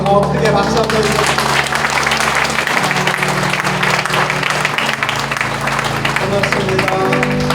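Church congregation applauding at a pastor's installation thanksgiving service as flowers are presented, steady sustained clapping throughout with a low organ or keyboard tone underneath.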